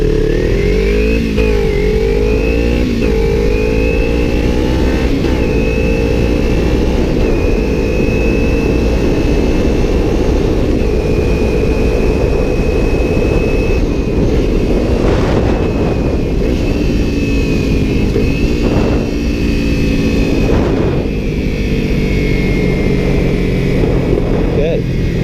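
A motorcycle pulls away from a stop, its engine loud and close, revving and rising in pitch through the gears as it accelerates, a steady roar throughout.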